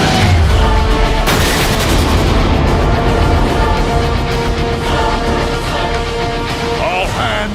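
Heavy weapons fire rages through a Transformers game cinematic on Cybertron, a dense, continuous barrage of booming blasts and rapid gunfire filling the whole stretch, loud and close, with sharp impacts and a voice briefly heard over the battle.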